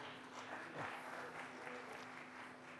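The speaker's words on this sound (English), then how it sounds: "Please give him a very warm round of applause." Warm, continuous applause from a conference audience welcoming a foreign secretary, fairly faint and even throughout, with a low steady hum underneath.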